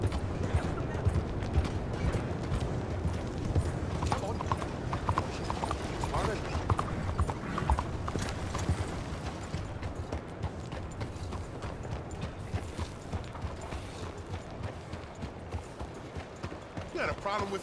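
Horse hooves clip-clop at a steady rhythmic trot in Red Dead Redemption 2, mixed with faint mechanical rattles and voices, continuous and fairly close.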